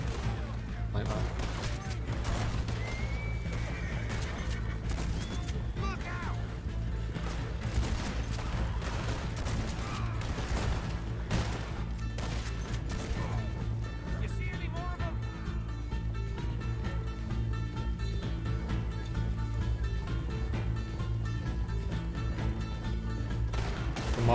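Gunfire in the video game Red Dead Redemption 2 crackles throughout as repeated sharp shots and volleys over a steady low game hum, with people talking over it at times.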